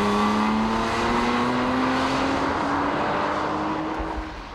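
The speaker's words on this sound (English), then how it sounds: "It also boasts a raspy exhaust note that begs the driver to keep the hammer down." A 2007 Porsche Cayman's engine and raspy exhaust drone loudly and steadily under hard driving, the pitch creeping upward as it accelerates before easing off at the end.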